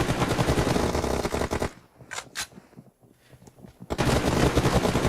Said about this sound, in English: Oh, nice headshot coming through there from Ben 10.